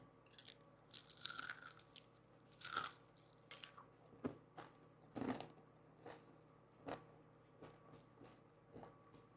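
Crisp, close crunches from biting into homemade fried onion rings, several sharp bites followed by quieter chewing in a silent room.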